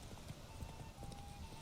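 Horse hooves beat in a quick rhythm as the mount gallops in a fantasy open-world game (The Witcher 3), moderately loud over a steady background hum.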